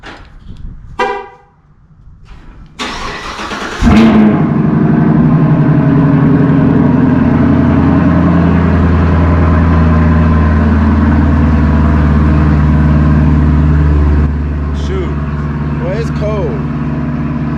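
A Chevrolet Camaro SS cold-starts with a sharp crank and a loud catch at about four seconds, then settles into a steady, deep rumbling idle close by that dips slightly near the end. A voice talks briefly before the start.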